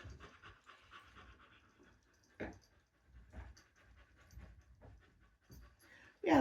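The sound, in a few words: dogs panting and whimpering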